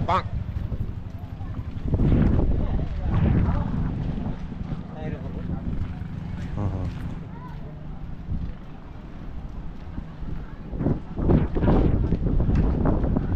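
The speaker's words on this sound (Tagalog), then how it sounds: "ang lakas ng hangin, ang laki ng alon" Strong wind buffets the microphone with low roaring gusts while water sloshes against a boat, and a person talks intermittently over it.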